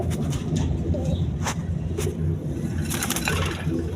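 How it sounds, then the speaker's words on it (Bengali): A pair of Pakistani Teri pigeons cooing a few times against a dense, steady background rumble of traffic or an engine, with no voices. "এক পেয়ার টেরি কবুতর আছে, পাকিস্তানি টেরি কবুতর"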